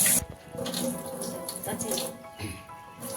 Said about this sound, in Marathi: मेथीची भाजी धुवून घेते मी मस्त स्वच्छ धुवून घेऊ आपण